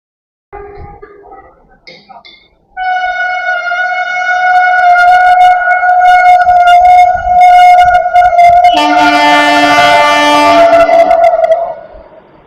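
A Puri–Howrah Vande Bharat express train passes near Mecheda, sounding a long, loud horn that swells and shifts pitch near the end, over rumbling rail noise.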